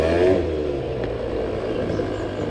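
Chinese two-stroke scooter engine revving, a loud steady buzzing drone with a brief harmonic rise at the start, then holding a rough, raspy pitch close by.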